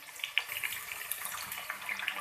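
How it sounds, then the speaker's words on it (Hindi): Water poured into a pan of frying spices and garlic paste for a bottle gourd and chana dal curry, a steady close hiss and splash lasting a couple of seconds with no talk. "थोड़ा सा इसके अंदर पानी डाल देंगे ताकि मसाले जले नहीं"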